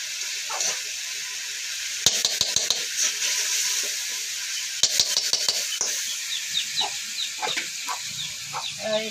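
Tomatoes and masala frying in a pan for an Odia curry, a constant close sizzle broken by bursts of sharp clatter and scraping as a spoon stirs around the pan.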